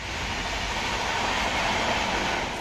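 A train rushes past near a quiet rural station platform in the Jhargram forest area, a loud continuous broadband roar and rumble that holds steady for the whole moment with no voices.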